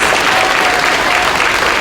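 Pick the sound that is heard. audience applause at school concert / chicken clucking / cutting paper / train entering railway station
audience applause at school concert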